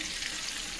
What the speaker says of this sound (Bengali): এখন আমি এই তেলের মধ্যে আলু ভেজে নেব।